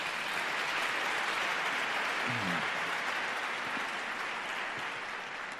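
Steady, dense audience applause fills a film festival hall in Zaragoza in 2019 during a short-film award ceremony, holding an even level throughout with no speech over it.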